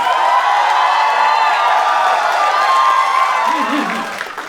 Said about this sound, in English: Come on, start clapping, start clapping. Put your hands together